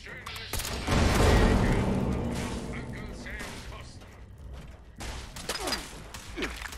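Controlled shots from a modded weapon in Fallout 76: a loud burst of gunfire rings out and fades, followed by a few sharper, quieter shots and some mechanical clatter.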